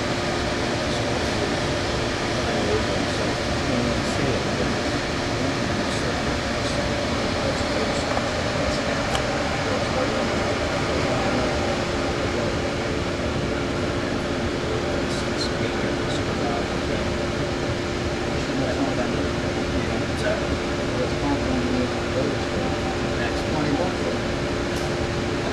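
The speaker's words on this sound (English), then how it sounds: "Back to the laser etcher." A laser etcher marks a chrome piece, giving a steady mechanical hum with a constant fan-like whir and faint ticks throughout, loud and unbroken.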